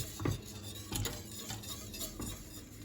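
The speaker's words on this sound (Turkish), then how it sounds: "Güzelce karıştırıyorum." A spoon stirring a simmering milk and chocolate mixture in a pot, soft scraping strokes repeating about every half second, quiet and close.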